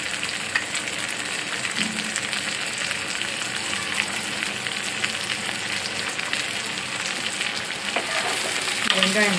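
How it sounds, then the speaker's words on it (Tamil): Finely chopped onions fry and sizzle steadily in oil for garlic vattha kuzhambu, a dense continuous crackle with occasional stirring scrapes, close and moderately loud, with no talk. "வெங்காயம் நல்லா வதங்கணும்."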